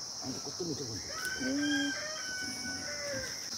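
A rooster crows loudly and close, a long rising then sustained call, with other fowl clucking around it in an outdoor village yard.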